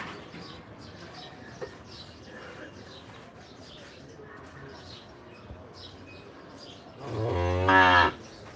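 A cow on a livestock farm gives one loud, drawn-out moo near the end, after a quieter stretch of faint farm background with distant birds.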